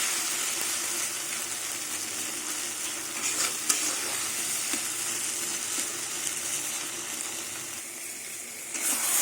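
Taro leaves (kochu shak) frying in oil as they dry and turn sticky, giving a continuous close hiss and sizzle with occasional soft stirring scrapes and no voices.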